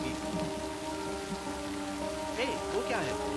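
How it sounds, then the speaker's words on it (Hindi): Heavy rain pours down in a dense, continuous hiss, with sustained tonal music and a few brief faint sounds rising above the downpour. "बारिश बहुत तेज हो रही है।"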